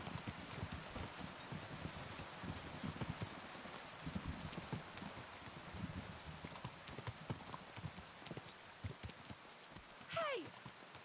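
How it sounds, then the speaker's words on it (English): Horse hooves clip-clop steadily on the ground in Kingdom Come: Deliverance 2, a continuous rhythmic trot with rain-like patter, a brief whinny near the end and some voices mixed in. "Do you want that horse to trample me?"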